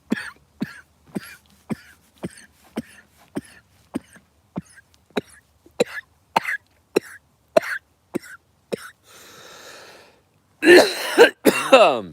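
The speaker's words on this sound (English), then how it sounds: "Got a cough to get off." A long run of short, sharp coughs repeats at a steady pace, near and loud, ending with a few harsher throat-clearing bursts.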